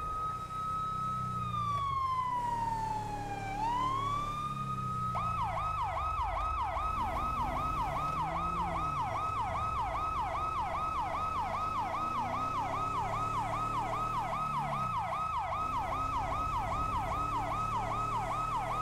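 A police car siren sounds continuously and loudly while the cruiser drives code 3 in LSPDFR, a police mod for a driving game. A long rising and falling wail switches to a rapid, steady yelp over an engine drone, with no talk.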